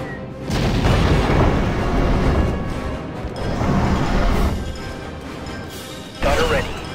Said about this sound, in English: Missile turret.